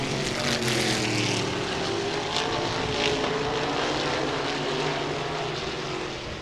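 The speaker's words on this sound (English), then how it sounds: "Scott Coe takes the outside groove around the 9 machine of Pete Wormcastle" Modified race cars roar around a dirt speedway in a feature event, a dense, continuous engine drone filling the whole stretch, loud and steady with no voices over it.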